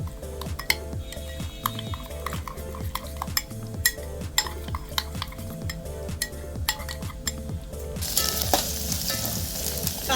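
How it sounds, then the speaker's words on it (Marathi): Onion frying with spices for a papad curry, a low sizzle beneath repeated clinks and scrapes of a spoon against the pan, then the sizzle swells louder and brighter toward the end, no voices. "कांदा भाजत आलेला आहे।"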